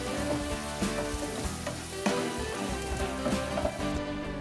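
Beef loaf frying in a pan with aromatics and soy sauce gives a dense, continuous close sizzle and crackle, with a few soft stirring knocks and no talking.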